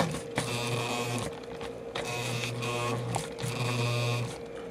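An electric drill bores a hole into a wooden baseball bat in repeated short bursts, a droning whine that starts and stops three times at moderate level with brief pauses between.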